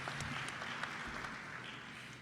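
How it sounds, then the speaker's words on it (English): Faint audience applause from a crowd at a talk on liveable cities, a steady patter of many clapping hands heard from a distance, with no voices over it. "that's a round of applause for bourbon."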